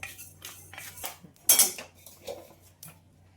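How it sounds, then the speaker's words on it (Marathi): Coriander seeds and black pepper dry roasting in a pan, with a spatula scraping and clinking against the metal in a few separate close strokes, one sharper clatter standing out, and quiet gaps between them. "यामध्येच मी 20 ग्राम धने टाकून घेते आणि 10 ग्रॅम मिरी। याला आपण 2 ते 3 मिनिटांसाठी छानसं परतून घेऊया।"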